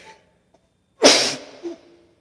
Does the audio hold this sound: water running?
no